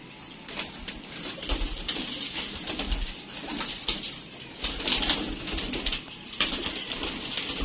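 Flying pigeons kept by a fancier coo in soft repeated low calls amid rustling and light shuffling, fairly close and steady throughout.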